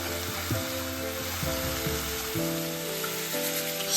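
Onions sauteing with cardamom and cinnamon stick in a pan over very low heat for a Kerala Syrian Christian okra mappas, giving a steady soft sizzle beneath louder background music.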